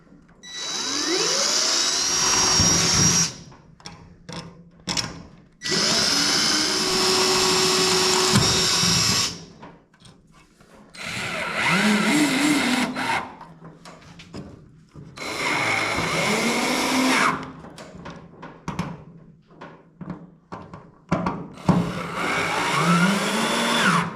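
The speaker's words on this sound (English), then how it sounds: "So we're going to drill the holes." A loud power drill whines in several long bursts separated by brief pauses, its pitch rising and falling as it bites into stainless steel.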